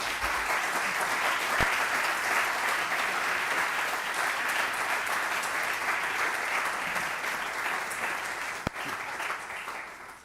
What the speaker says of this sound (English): Don't clap for me, clap for that speech.